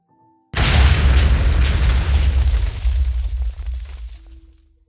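A loud, deep Minecraft explosion booms after a short quiet start, then rumbles and crackles as it slowly fades.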